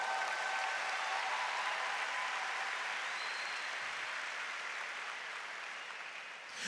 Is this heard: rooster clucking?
no